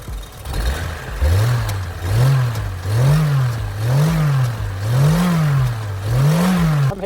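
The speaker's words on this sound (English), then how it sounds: "As you can hear, the misfire is still present" A Vauxhall Cavalier Mk2 engine with a misfire runs close and loud, its note rising and falling in a regular uneven wobble about once a second, with no voices.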